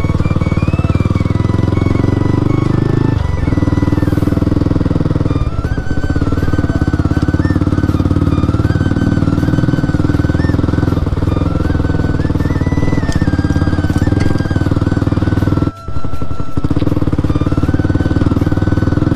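A Yamaha R15 V3 motorcycle with a light-colour wrap rides along a colony road toward a station road, its engine droning steadily and loudly throughout with wind rumble and a brief dropout near the end, no talk.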